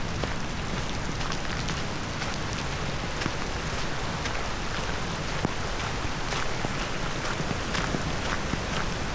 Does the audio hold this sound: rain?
yes